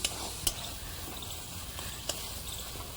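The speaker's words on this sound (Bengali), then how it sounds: "এবার দিয়ে দিচ্ছি ভাজা মশলা 1 চামচ দিয়ে এবার ভালো করে কষে নেব" Spice paste with a spoonful of fried masala is stirred and fried in a pan for a Bengali eggplant chicken dish, giving a faint, steady sizzle with a few sharp scraping clicks.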